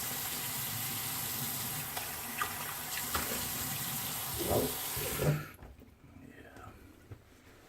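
Tap water runs steadily into a bathroom sink while a man rinses off after a wet shave, a broad rushing flow with small splashes, then it is shut off and the room goes quiet.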